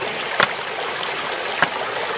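A small stream flowing along a Camino del Norte trail near Muros del Nalón on the Spanish coast, heard as a soft steady trickle with two brief louder splashes.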